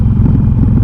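A 2013 Harley-Davidson Forty Eight rides down the road with a loud, steady low engine drone mixed with wind rush, unbroken for the whole short stretch.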